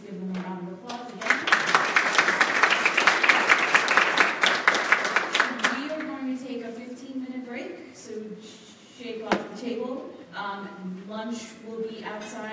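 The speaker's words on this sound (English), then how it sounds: "please give them a round of applause again" An audience at an Educating America Tour event in Massachusetts gives a round of applause, dense clapping for about four seconds that then tapers off, and someone speaks over and after it.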